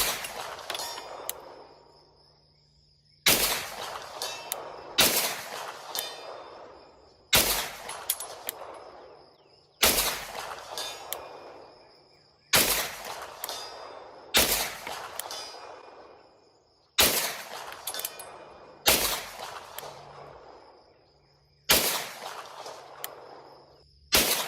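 Nine sharp gunshots from a Springfield Kuna carbine fired from a house toward targets 200 yards away, loud and evenly spaced a few seconds apart, each followed by a ringing echo and a faint metallic ping from the distant steel.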